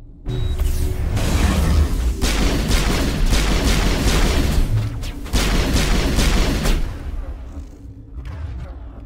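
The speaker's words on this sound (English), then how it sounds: "Open fire!" Loud sci-fi gunfire erupts in Mass Effect combat, a dense, sustained barrage with booming impacts and whooshes lasting most of the clip before tapering off near the end.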